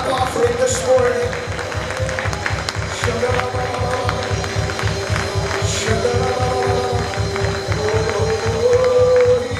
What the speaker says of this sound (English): Can we give him a clap offering this morning?